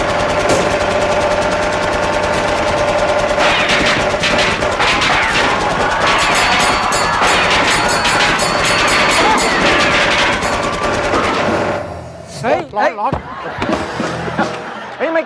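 Rapid, dense gunfire in a game rattles on continuously for about twelve seconds, with people talking over it, and then a few scattered bangs follow.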